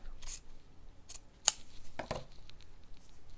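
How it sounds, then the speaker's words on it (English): Scissors snip through fabric while shaping a small fabric gingerbread house: a few quiet, separate cuts, one sharp and crisp, close up in an otherwise quiet room. "So I'll just fold it back up again and cut down further."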